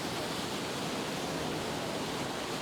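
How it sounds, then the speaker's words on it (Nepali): A mountain stream flowing on a hiking trail in Japan, a steady broadband rush of water with no other sounds. "खोला"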